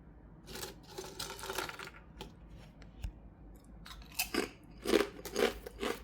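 Spicy mala cassava chips are bitten and crunched close up, with quiet crisp snaps and crackly chewing that come in small clusters, growing louder toward the end.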